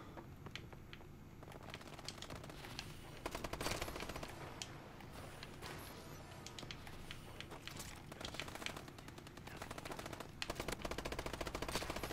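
Rapid automatic Bal-27 rifle gunfire from Call of Duty: Advanced Warfare in a free-for-all online match, dense bursts of shots crackling continuously and fairly loud, with clicking game mechanics mixed in.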